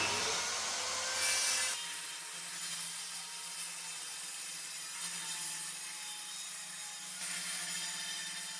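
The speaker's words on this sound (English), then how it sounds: "So I think we get the saw back out, we measure out the size we're gonna need, mark it up." A hand saw draws one long continuous cut through a sheet of board during a home renovation. The rasping strokes stay steady and close for several seconds, with no talking.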